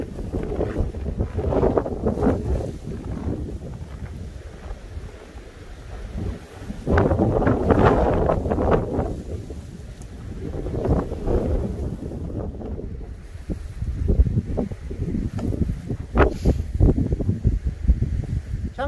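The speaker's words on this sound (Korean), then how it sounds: "아, 근데 너무 추워요, 바람 불어서." Strong winter wind buffets the microphone on Hyangjeokbong summit of Deogyusan mountain, loud rumbling gusts that surge and ease in waves, with no one talking.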